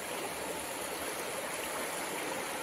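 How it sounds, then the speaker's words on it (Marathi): Steady broadband rush of a river flowing, a continuous dense hiss of moving water with no voices, even in level throughout. "खूप मोठी नदी आहे"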